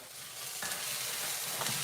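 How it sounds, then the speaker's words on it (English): Chile frying in a hot pan over an open flame gives a steady, close sizzle with crackling hiss and a few louder pops and stirring scrapes. No one speaks. "So now that that's sizzling, I'm gonna turn that fire down"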